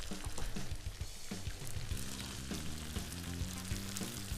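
Onions and garlic sizzle steadily in a pan while cooking for saç kavurma, with a continuous loud frying hiss and occasional stirring clatters throughout, no voices.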